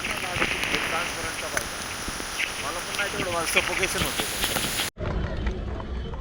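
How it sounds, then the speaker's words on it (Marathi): Heavy monsoon rain pours steadily in a dense, hissing roar close by at Matheran hill station, with a person talking over it and the downpour continuing after a brief cut. "पण पाऊस तेवढा जोरात चालू आहे"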